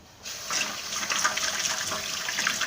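Tap water runs steadily while washed plates are rinsed at a sink, starting from near quiet and becoming a constant close splashing rush.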